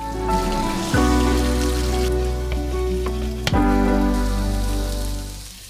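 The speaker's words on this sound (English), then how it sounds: "So first I fried up the fish fillets, and then the langosta tail." Fish fillets and a langosta tail fry in a pan with a loud, steady crackling sizzle, broken by a few brief clatters and bumps, with no talking.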